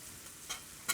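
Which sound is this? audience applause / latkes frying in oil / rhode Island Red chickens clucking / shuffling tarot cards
latkes frying in oil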